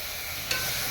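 Crushed small shallots sizzle and hiss steadily in a hot pan, with a brief scrape of stirring midway.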